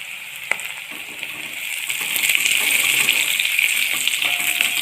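Ingredients sizzle steadily in hot oil for a Kerala-style kakka (clam) roast with curry leaves, the frying hiss swelling louder partway through and staying close and continuous.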